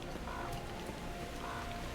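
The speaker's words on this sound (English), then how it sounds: "And it's also fucking raining." Rain falls in the video game Metro Exodus as an even, continuous hiss that stays at a moderate level throughout, with faint recurring tones above it and no voices.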